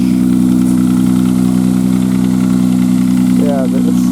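Engine of a 1995 Nissan Maxima idling with a broken exhaust flex pipe, a loud, steady, deep droning rumble held throughout, with a brief higher rattle near the end.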